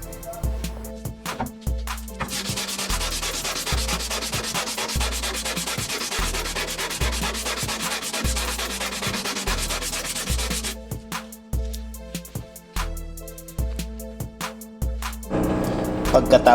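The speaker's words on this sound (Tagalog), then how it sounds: "kakaskasin natin sa pamamagitan ng 120 grit na papel de liha ang brake pads para maalis yung nagdikit na umibabaw na metal fiber sa brake pads nito" Car brake pads sanded by hand with 120 grit sandpaper to strip off stuck metal fiber, giving a steady rhythmic rasping of back-and-forth strokes, loud and close, with a short pause near the end.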